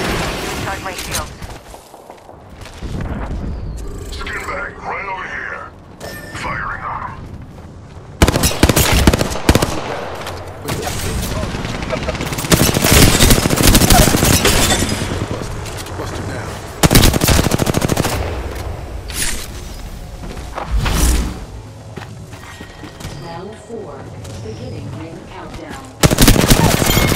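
Rapid automatic gunfire in Apex Legends on the Newcastle setting, with loud bursts and fusillades recurring throughout amid in-game explosions, while a voice speaks over the firing.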